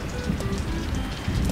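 Steady rain falls in a continuous broadband hiss with soft patter on a surface, even and unbroken throughout with no voices.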